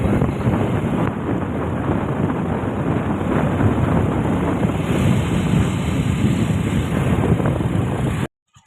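Steady wind buffeting the microphone, a continuous broadband rush lasting several seconds without voices, cutting off abruptly at the end.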